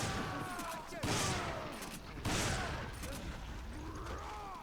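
Rapid gunfire from a Resident Evil 5 Mercenaries match, with Chris firing multiple point-blank shots at the Executioner; loud, dense bursts repeat across the span over a constant wash of game noise.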